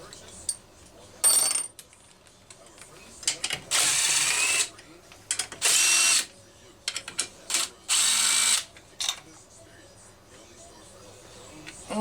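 A power tool, likely a drill or impact driver, spins in several short bursts of two to three seconds, with quiet gaps, as the muffler comes off a Homelite Super XL-925 chainsaw; a faint voice is heard now and then.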